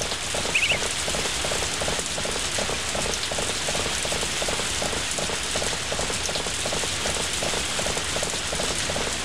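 Steady rain patters continuously in the Harvest Moon: A Wonderful Life farming video game, with a faint regular ticking running underneath at an even pace for the whole stretch.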